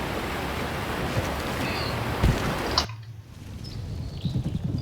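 Video game nature ambience of a rushing waterfall and wind fills the space as a dense steady wash, with faint bird chirps; the roar abruptly thins partway through, leaving quieter outdoor background.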